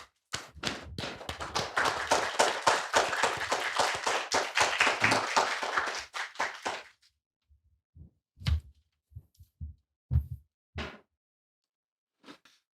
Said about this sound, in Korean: 우리 강 교수님 매실 때 일어나셔 가지고 큰 박수로 맞이해 주시죠.